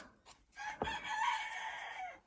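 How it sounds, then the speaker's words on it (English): A single rooster crows clearly, its drawn-out call rising and then trailing off, heard from a moderate distance in otherwise quiet surroundings. "what are those little roosters?"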